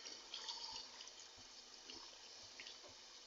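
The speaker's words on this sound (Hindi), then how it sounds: "अब हम इसमें आधा गिलास पानी डाल देंगे।" A thin stream of water, about half a glass, splashes and trickles into a pressure cooker with turnip curry, soft and close, with a few faint clinks underneath.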